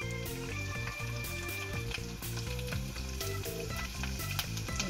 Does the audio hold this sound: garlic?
yes